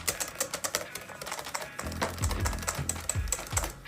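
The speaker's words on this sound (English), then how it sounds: "Keep whisking." A whisk beats sauce for eggs Benedict in a bowl, giving a rapid, irregular run of close clicking strokes that grows fuller and heavier in the second half.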